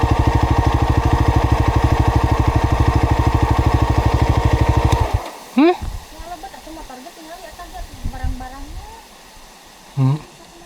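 A motorcycle engine idles with a steady, rapid pulsing thrum for about five seconds, then cuts off, leaving quiet outdoor ambience and a few brief voice-like sounds.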